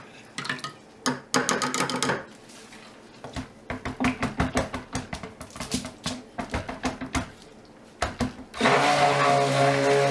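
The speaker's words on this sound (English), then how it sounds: "let me just grab a stick blender real quick" A stick blender mixing soap batter whirs in short, choppy pulses, then runs in one steady, loud burst of continuous blending.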